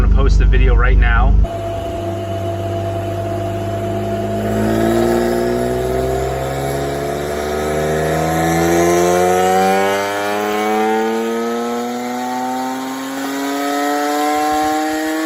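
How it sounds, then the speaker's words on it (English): A turbocharged Acura NSX engine revs on a dyno, climbing steadily in pitch through a long, loud pull after a short burst of noise at the start. "So we did a bunch of pulls. The car ran great on the dyno."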